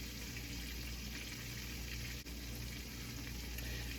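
Chicken pieces frying in a full skillet give a steady, close sizzle and crackle with no break across the whole stretch.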